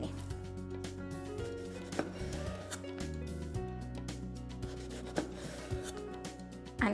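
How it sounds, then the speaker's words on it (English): Knife cutting a skin-on aubergine into very thin slices on a board, quiet, close tapping and scraping strokes at an uneven pace. "I'm gonna leave the skin on the aubergine and just cut it"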